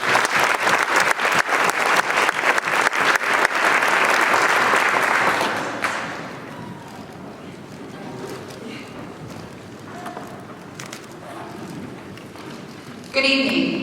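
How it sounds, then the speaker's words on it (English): Audience applauding at a high school gym naming dedication, a loud burst of clapping that fades after about six seconds into quiet room noise. "Let's just give them a round of applause for them."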